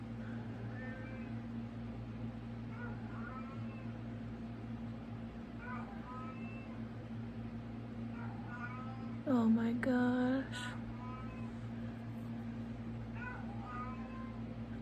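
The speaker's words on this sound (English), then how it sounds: "I can't concentrate with my freaking cat going meow," A cat meows several times, faint at first, then one loud close meow, over a steady low hum, with a brief spoken exclamation.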